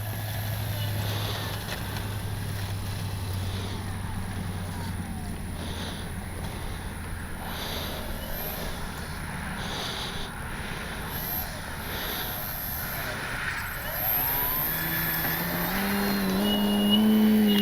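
An Avios Grand Tundra RC model airplane takes off in a scale-style run, its motor whine faint under wind and handling noise and rising in pitch toward the end.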